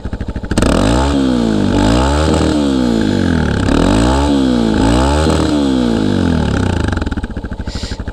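Yamaha Tricker motorcycle engine revving in neutral, loud and close, with repeated rising and falling throttle blips over a rough idle and a slight lingering irregularity.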